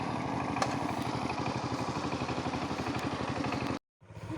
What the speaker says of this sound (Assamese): বেকগ্ৰাউণ্ডৰ পৰা ট্ৰেক্টৰৰ মাত আহি আছে, হাল বাই আছে পূৰা।